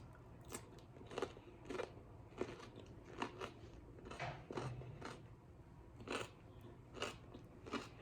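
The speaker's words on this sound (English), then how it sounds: "I'm actually gonna eat this right now" Someone biting and chewing food up close, a series of crisp crunchy bites spaced irregularly over several seconds, quiet and without speech.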